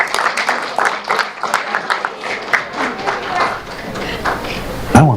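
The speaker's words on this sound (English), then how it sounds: "Can we have one more round of applause for our Girl Scouts?" A crowd applauds with dense, steady clapping that holds for several seconds, with a louder burst of noise near the end.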